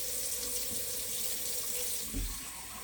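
Tap water runs steadily into a sink, filling a pot with water to cook rice, a continuous close splashing hiss with a brief louder gurgle near the end.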